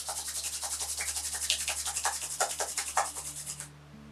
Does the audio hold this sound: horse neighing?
no